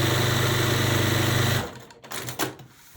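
A sewing machine stitches quilt block pieces for a barn star sampler block in a steady, rapid close whir, then stops about halfway and leaves quiet handling noises.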